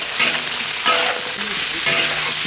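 Chicken from a large rooster stir-frying in a wok with cooking wine, salt and dark soy sauce, a loud continuous sizzle broken by three scraping strokes of the spatula.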